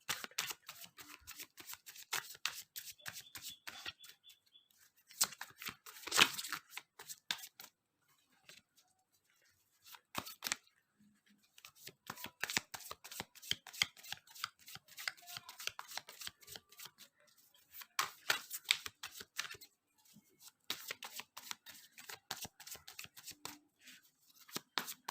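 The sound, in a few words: shuffling tarot cards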